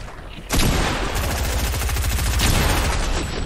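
Sustained automatic gunfire in a video game erupts abruptly and roars on as a loud, continuous rapid rattle with a heavy low-end boom, hardly easing to the end.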